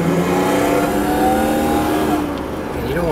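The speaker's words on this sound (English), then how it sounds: "So I'm going to slow down here, and then we'll give it the gas." A 1986 BMW 735i E23 sedan with a 3.5-liter six-cylinder engine pulls steadily under acceleration, a loud continuous engine drone with rising tone heard from inside or close by, no talking.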